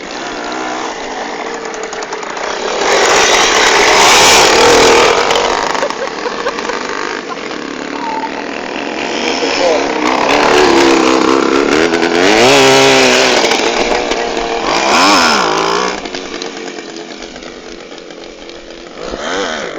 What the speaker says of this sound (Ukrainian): зразу відчувається мощь мотора. Мотор прям разрывается